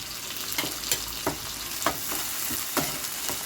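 Finely chopped tomato hits hot oil with browned onion, a loud continuous sizzle and crackle punctuated by sharp stirring scrapes of a utensil against the pan every second or so.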